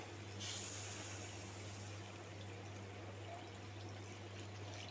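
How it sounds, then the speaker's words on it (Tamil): Water pours in a steady stream into a pot of appalam kuzhambu with sambar powder, a continuous soft splashing with a low hum underneath. "இப்போ தண்ணி சேர்த்துக்கலாம்"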